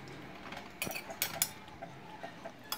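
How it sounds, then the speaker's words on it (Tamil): A spoon scrapes and clinks against a pan while coriander leaves are mixed into a cooked onion-tomato mixture for tomato chutney, with a few sharp metallic taps over a quiet, faint background. "இப்போது இந்த மிக்சரில் நம்ம எடுத்து வச்சுருக்க மல்லித்தலையை கட் பண்ணி சேர்த்துட்டு நல்லா கலந்து விடுறோம்"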